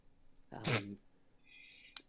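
One short, sharp sneeze bursts out in a quiet room, followed by a faint hiss and a small click.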